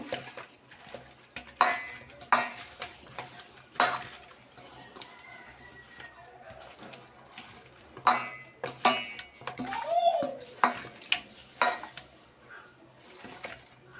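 Hilsa fish pieces are worked together with spices by hand in a bowl, giving soft wet squelches with frequent sharp clinks and knocks against the dish in an uneven, close-up rhythm.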